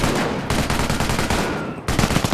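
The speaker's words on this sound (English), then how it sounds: "Taking fire!" Dense, loud gunfire from a Company of Heroes battle, with rapid overlapping shots and machine-gun bursts running continuously, pausing briefly near the end before resuming.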